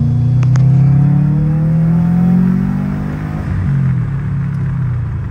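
A 2012 Subaru WRX accelerating hard in second gear gives a loud, steady, close-up rumble, with pitch climbing, a brief dip, then climbing again.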